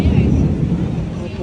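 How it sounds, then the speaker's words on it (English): A deep, heavy rumble of thunder from an afternoon rainstorm at a resort rolls on continuously and loudly, filling the low end throughout. "You hear thunder."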